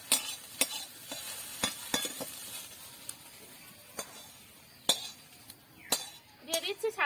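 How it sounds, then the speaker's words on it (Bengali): Chowmein noodles hitting hot oil in a pan for an egg and spicy potato dish, with a steady sizzle under repeated stirring scrapes and sharp metal clinks of a utensil against the pan. "আর এদিকে আমার তেলটা গরম হয়ে গেছে, আমি এবার চাউমিনটা দিয়ে দিচ্ছি"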